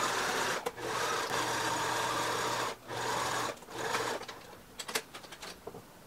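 Sewing machine stitching a folded fabric hem on a double-sided bustier dress, running in long continuous bursts with brief pauses, then stopping for a few soft handling clicks and rustles.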